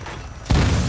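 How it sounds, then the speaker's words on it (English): A mortar strike explosion in Call of Duty: Modern Warfare II lands with a sudden heavy boom midway, a loud deep blast following a quieter lead-in. "They put a mortar strike on themselves."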